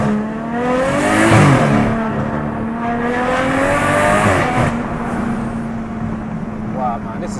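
An 880bhp BMW M140i accelerates hard from inside the cabin, its engine note rising and falling through gear changes in a loud, continuous droning roar. Voices talk over the engine noise.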